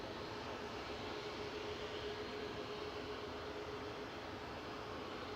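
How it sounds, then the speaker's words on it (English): An Airbus A321 airliner lands at Manchester Airport, a steady, continuous broadband engine roar held at an even level throughout, with a faint tonal hum beneath it and no voices. "Got a lofty A321 landing."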